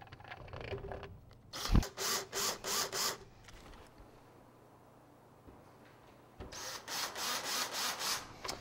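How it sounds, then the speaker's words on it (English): A power screwdriver drives screws into a car stereo mount in two bursts of rapid, rhythmic whirring pulses, close and fairly loud, separated by a quieter pause with no talking. "Now we're going to put the screws in the master just a little bit so we can secure it"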